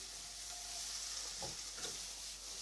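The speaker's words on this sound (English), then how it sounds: "we crush our 2 cloves of garlic, get them in, just cook it out" Crushed garlic cloves fry in a pot for beef bourguignon, giving a steady soft sizzle with a couple of brief stirring knocks.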